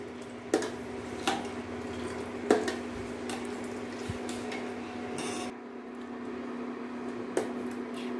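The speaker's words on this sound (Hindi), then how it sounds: "इसे कंटिन्यू चलाते रहिएगा ताकि वो नीचे बैठ ना पाए।" Milk for shahi tukda is stirred steadily in a pan on the stove, with soft, continuous scraping and occasional light knocks of the spoon against the metal, quiet and close.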